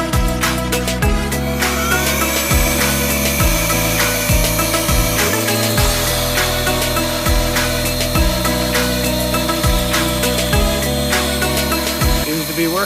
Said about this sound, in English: It's a little rechargeable inflator